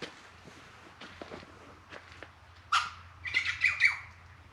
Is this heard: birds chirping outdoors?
yes